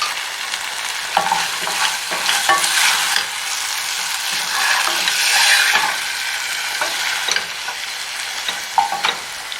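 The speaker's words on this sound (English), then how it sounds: "I'm going to add garam masala and chili powder to the meat. So that is garam masala and chili powder. Then I stir." Beef fries in a pan with garam masala and chili powder, sizzling steadily while a utensil stirs and scrapes with scattered soft knocks, close and fairly loud.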